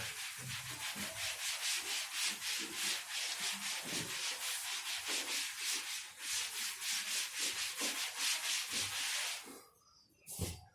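An eraser or duster rubbing a classroom board clean during a biology lecture on flowering plants, with steady rhythmic back-and-forth strokes, close and loud for about ten seconds before stopping.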